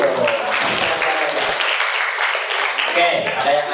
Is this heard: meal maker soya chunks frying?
no